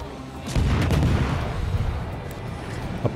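Warship guns fire armor-piercing shells in World of Warships on the Polish destroyer Blyskawica, a loud booming burst followed by a rolling, rumbling wash of gunfire and echo that stays dense for several seconds.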